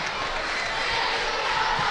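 Hometown crowd in a school gym cheering and clapping after a boys basketball home win, a broad continuous roar of applause at steady loudness throughout.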